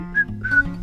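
A person whistles a few short, clear, close notes in a quick little phrase, alone with no talking.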